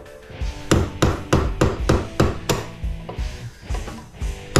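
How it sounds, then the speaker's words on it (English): Repeated hammer blows on scrap brass, about a dozen sharp, ringing metallic strikes in a fairly steady rhythm, close and loud with no talking. "Use a hammer. That's what they're for."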